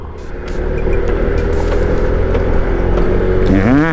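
A new Honda Click 160 scooter engine drones steadily and loud while riding in heavy rain, and the pitch sweeps upward near the end as it accelerates.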